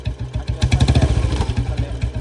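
A 1994 Royal Enfield Standard Bullet's single-cylinder engine thumps at a steady, close, loud idle-like rhythm while gears are shifted, with no talk over it.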